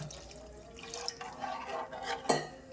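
Water poured into a pot of Tarle fish curry, a faint, brief splash and trickle with a light clink of a vessel, quiet and close.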